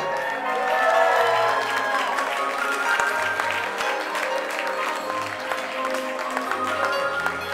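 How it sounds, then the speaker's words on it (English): Wedding reception guests at a country club keep up sustained applause, a steady dense wash of clapping with crowd murmur and some voices mixed in, fairly loud throughout. "Let's keep your applause going, Mr. and Mrs. Joseph LaCroix."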